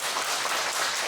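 A church congregation applauding during a Sunday morning worship service, with steady dense clapping throughout and no voices.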